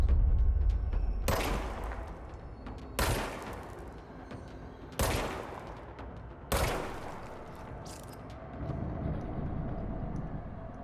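Gunfire from the video game Control: four heavy, booming shots spaced about two seconds apart, each with a long reverberant tail, then a lower rumble at the end.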